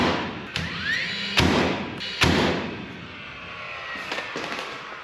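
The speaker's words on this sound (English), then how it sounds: "I'm gonna shoot 2 nails into the bottom of the truss through our top plate" Pneumatic nail gun firing two nails up through a single top plate into the bottom of a roof truss during cabin framing, two sharp close thumps about a second apart with a few softer knocks afterward.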